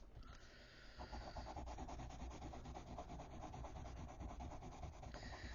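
A Faber-Castell Black Edition colored pencil is pressed hard against paper, giving a continuous close scratchy rubbing that sounds like sanding, with fast back-and-forth strokes.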